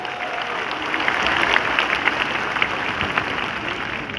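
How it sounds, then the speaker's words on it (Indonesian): Audience applause at a NasDem party national working meeting, a steady crowd clapping that swells slightly in the middle and stays even throughout, heard alone without speech. "Kita berikan tepuk tangan juga."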